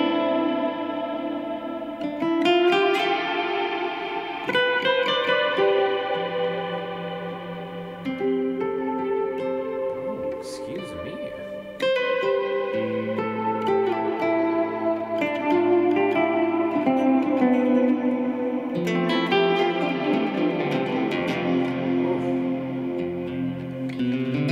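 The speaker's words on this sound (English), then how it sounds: "Modulated reverb." Guitar through a modulated stereo reverb pedal, washed in shimmering, wavering reverb, notes ringing and blending into a lush, spacious wash that swells and sustains for the whole stretch.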